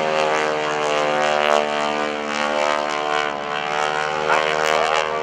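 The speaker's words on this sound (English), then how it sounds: "he'll bring the nose up and he's going to roll the airplane upside down" A propeller-driven advanced trainer airplane performs aerobatics at the NAS Oceana airshow, its engine droning loudly and steadily with a rich harmonic buzz that swells slightly as it maneuvers, with no voices heard.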